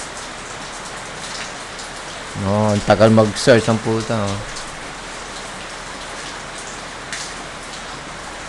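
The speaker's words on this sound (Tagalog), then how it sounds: "kasi umuulan na naman sa Pilipinas" Steady rain falls in the Philippines, a continuous hiss of drops on surfaces running through the whole stretch while someone speaks briefly in the middle over it.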